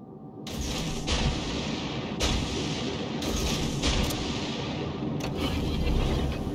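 Naval guns in the World of Warships game, a Somers destroyer blind-firing during a cyclone storm, boom out in several heavy broadband bursts over a constant roaring din of battle and weather, with no speech.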